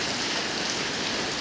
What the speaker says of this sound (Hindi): क्या झम झम झम झम बारिश हो रही है।